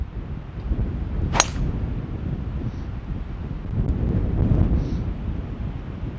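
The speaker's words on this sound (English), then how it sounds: "It felt as good as I was gonna hit it into a 40 mile an hour wind." Strong wind of about 40 mph sweeping across a golf course, roaring and buffeting against the microphone in a continuous loud rumble, with a brief sharp knock partway through and no talking.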